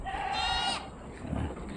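A goat on a farm gives a single clear, close bleat, followed by faint rustling.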